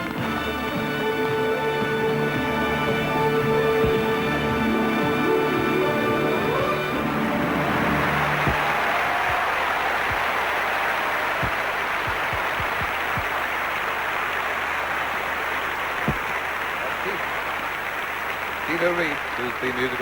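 An audience at the Eurovision Song Contest 1983 applauds the orchestra, steady clapping running through the whole stretch while a commentator talks over it and orchestral tones fade out early on.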